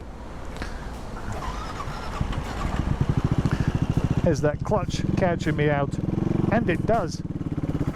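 A CCM Bobber's big single-cylinder engine thumps and rattles with a steady, rough, agricultural pulse under a man's speech, revving up with a loud throaty rise toward the end as the clutch catches.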